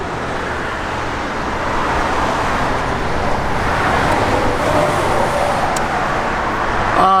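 A 1966 Chevrolet Nova's engine runs steadily with a loud, continuous rumble, holding an even drone throughout with no voices.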